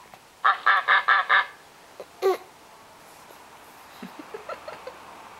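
A person's voice imitates a duck with five quick, loud nasal quacks in a row, then one longer honking quack, followed by faint soft clicks and rustles close by.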